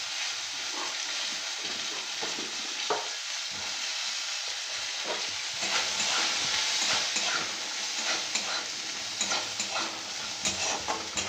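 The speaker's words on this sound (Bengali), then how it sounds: "এরপর আমি আগে বরবটিগুলো ভেজে নেব" Yardlong beans fry in hot oil in a pan for an eggplant and bean dish, a steady close sizzle broken by repeated scraping stirs, with no voices.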